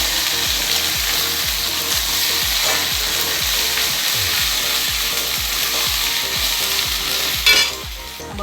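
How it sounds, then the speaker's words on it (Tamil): Ginger garlic paste sautéing in a pan for pepper mutton fry, a steady loud sizzle with regular rhythmic stirring scrapes throughout and a brief sharper hiss near the end. "இது நல்லா வதங்கணும். தேவையான அளவுக்கு இஞ்சி பூண்டு பேஸ்ட் போட்டுக்கலாம்."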